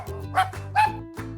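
A dog gives three or four close, loud barks spaced evenly apart, alone with no voices.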